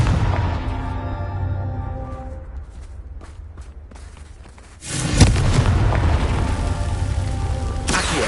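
Confringo blasting spell in the game Hogwarts Legacy on PS5 erupts in a sudden loud explosive boom, followed by a sustained roaring rumble after a stretch of lower crackling tones.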